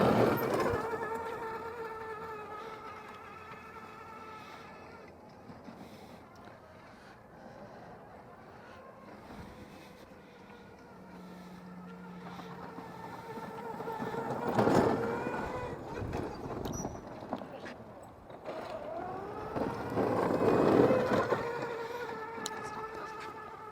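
A kids' Tesla CyberQuad electric quad drives through grass with a steady whirring motor whine rising and falling in pitch, joined by rustling and bumps, while people talk in the background.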